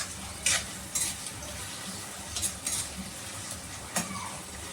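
Onions frying in a pan for egg biryani, a quiet steady sizzle broken by several sharp metal spatula scrapes and clinks against the pan, no speech.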